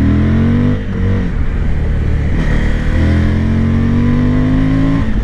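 A 2023 Suzuki V-Strom 1050 DE with a V-engine runs with a loud, steady, close engine drone, its pitch dipping briefly and then rising gently, with wind noise mixed in.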